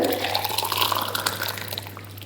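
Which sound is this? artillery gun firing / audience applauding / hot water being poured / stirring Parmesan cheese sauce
hot water being poured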